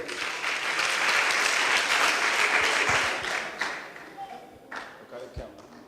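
Children at a West Indies Cricket Board kiddy cricket camp clap as names are called, a dense burst of clapping that thins and fades partway through, leaving scattered claps and background voices.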